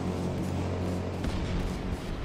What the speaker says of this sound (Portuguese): Olha, arrebentou com o carro da bosta!